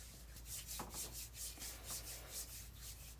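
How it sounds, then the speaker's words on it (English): Soft, close rubbing of body oil into skin by hand, a quiet repeated swishing friction in short strokes, alone with no talking. "I'm gonna rub that all in"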